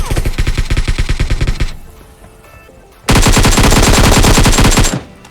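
Automatic gunfire in a shooter video game, loud and close, comes in a rapid burst, stops for over a second, then returns as a second dense sustained burst.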